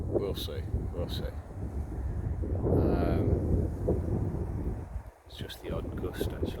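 Wind gusts buffet the microphone on the shore of Bassenthwaite Lake, a steady rushing roar that swells to a stronger blast midway, then briefly drops before picking up again.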